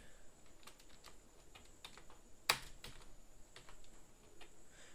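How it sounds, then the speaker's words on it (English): Keys tapping on a computer keyboard as text is typed into a Publisher text box, soft irregular clicks at close range with one sharper louder keystroke in the middle, no talking. "Now type your text."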